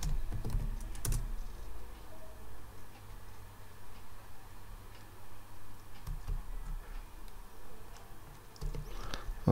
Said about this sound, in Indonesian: kita instalasi dengan mengetik perintah lnf install nginx